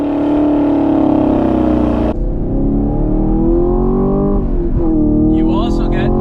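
A Chevrolet Camaro LT1 V8 with a 6-speed Tremec manual gives a loud, close engine drone that rises and falls through a shift, with an automatic rev-matching blip, and a voice talks briefly over it.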